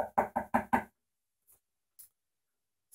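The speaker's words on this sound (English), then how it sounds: "Knock on wood." Four quick, close knocks of knuckles on wood in an even rhythm, followed by near silence broken by a couple of faint, brief noises.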